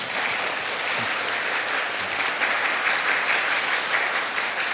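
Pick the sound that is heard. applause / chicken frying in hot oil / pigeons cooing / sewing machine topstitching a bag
applause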